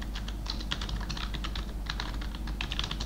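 Rapid typing on a computer keyboard while text is entered into a website builder's text box, with irregular clusters of close, crisp key clicks over a steady low hum and no talking.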